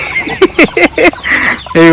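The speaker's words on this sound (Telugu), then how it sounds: "ఇవన్నీ పెట్టలే, క్వాలిటీ గల పెట్టెలు." Aseel hens cluck nearby on a poultry farm in a few short, choppy bursts, ending with a longer drawn-out call.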